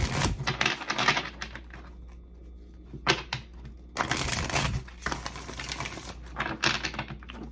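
Tarot cards handled and shuffled for a reading, quick papery riffles and taps coming in bursts, with louder flurries near the start, around three seconds and through the second half, alone without talk.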